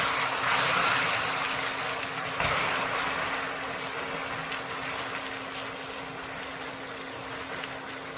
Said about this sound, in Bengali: এবার আমি দিয়ে দেব গরম জল।